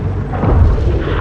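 A frigate blows up in the space strategy game Homeworld 3: a deep, rolling boom with heavy low rumble that holds steady and loud for over a second, with no talk over it.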